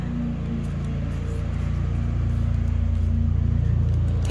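Lawn mower engine running steadily nearby in a yard, a loud continuous low rumble that rises slightly toward the end.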